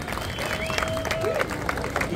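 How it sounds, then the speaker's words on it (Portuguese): A crowd claps and cheers steadily at a surf festival award ceremony in Saquarema, with a dense wash of applause that holds for the whole stretch and faint public-address voice underneath. "Uma salva de palmas"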